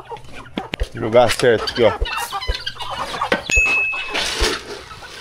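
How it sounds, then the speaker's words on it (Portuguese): Chickens cluck and squawk loudly up close in a busy flock, with sharp repeated calls over a rural rodeo setting while someone talks in Portuguese. "Haja galinha no mundo, meu Deus do céu!"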